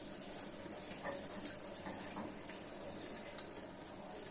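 Close, continuous splashing of water as a sparrow bathes in a shallow dish, a steady wet fluttering with small bursts of droplets, no voices heard.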